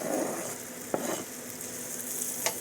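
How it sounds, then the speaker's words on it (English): Green peppers and onions sauté in melted butter in a hot pan, giving a steady close sizzle with a couple of brief stirring scrapes, with no talking. "we're going to add our green peppers and our onions"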